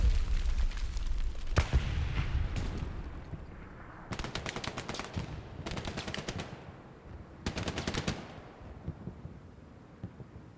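Grenade blast and bursts of automatic gunfire during a friendly esports match, with a heavy boom early on followed by three dense rapid-fire volleys separated by short gaps, loud and close with a busy game-audio bed.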